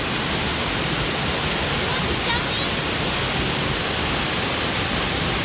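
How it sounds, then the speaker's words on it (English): Spouting Rock waterfall in Colorado roars nearby in a constant, dense rush of falling water that fills the whole span without pause. "Yeah, this is a more impressive waterfall."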